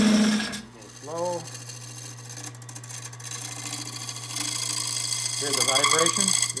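A wood lathe turning a wooden bowl spins with a steady low hum and a buzzing, rattling vibration, while a tool scrapes against the wood and a voice talks briefly.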